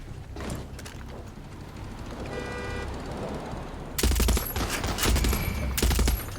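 Bursts of automatic gunfire fill a Far Cry 6 battle, first steady and moderately loud, then erupting into a sharper, heavier barrage of closely spaced shots.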